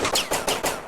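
Pistol gunfire in a modded Fallout game, several sharp shots fired at a steady rhythm less than a third of a second apart, loud and close, with no talking.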